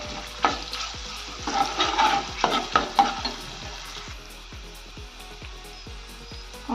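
Onions and ginger garlic paste fry in oil, with a stirring spoon scraping the pan in a regular rhythm of about two strokes a second over a soft sizzle that is busier early and then thins out.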